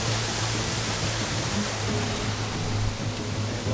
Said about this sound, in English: we are closing to the Kozák waterfall